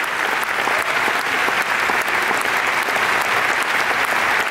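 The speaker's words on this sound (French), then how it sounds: "je voudrais qu'on applaudisse" Sustained, dense applause from a large audience at the opening night of a film festival, steady and loud throughout with no talk above it.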